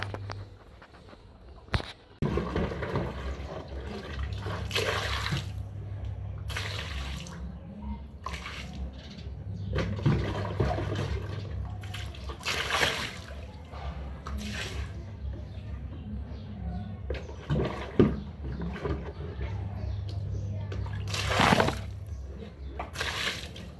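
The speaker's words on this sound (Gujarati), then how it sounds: "અહીંયાથી પાણી ભરી ભરી આમાં અને એમાં સાફ કરું બધું, ડોલ ઘસી." Water is filled and a bucket is scrubbed clean at a household tap, with splashing pours, drips and scraping rubs recurring irregularly over a quiet background, and occasional speech in between.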